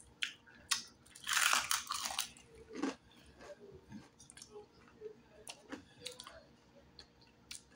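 Close, crisp crunching and chewing of deep-fried turtle, irregular bites with wet mouth noises in between, fairly quiet overall.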